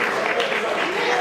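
Sustained crowd applause at a dinner party, a thick steady wash of many hands clapping with no break, heard briefly and fairly loud.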